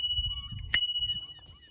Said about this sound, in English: So I got the little bell.